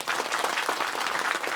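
An audience at a Kannada movie song launch event claps in a dense, steady burst of applause that holds evenly from start to finish without any voices over it.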